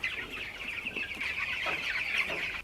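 A steady mass of chickens clucking in a poultry farm shed during a bird flu downturn, a dense continuous chorus at moderate level with scattered individual clucks and no speech.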